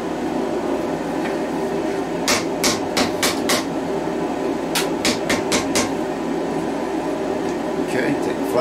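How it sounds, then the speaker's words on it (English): A hammer strikes hot metal during a Bowie knife build, two quick bursts of four to six sharp ringing blows each, over a constant background hum with faint talk. "Okay, take the flat side of the hammer."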